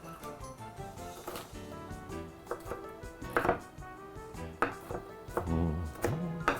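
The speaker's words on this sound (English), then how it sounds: "Then I'll just take and just rough chop these." Knife rough chopping quiche ingredients on a cutting board, a run of close, uneven chopping thuds with a few louder knocks, and no talking.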